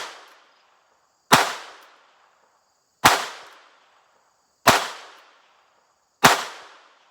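Five sharp, loud gunshots from a North American Arms .22LR mini revolver fired at a target 10 feet away, spaced roughly a second and a half apart, each cracking and then fading with silence between.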